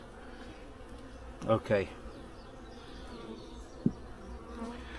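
Honey bees buzz softly in an opened hive split, a low continuous drone with a brief spoken word and a couple of small knocks over it.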